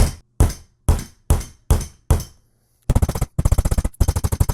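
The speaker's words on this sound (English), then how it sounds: "I'm going to take my hammer and I'm just going to tap this through the candle." Sharp metallic hammer strikes tapping a nail through a candle, six evenly spaced blows, then a pause and two rapid bursts of fast repeated tapping, close and loud.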